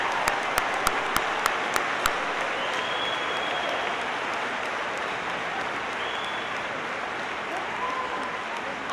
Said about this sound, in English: So let's at least give these amazing women a round of applause.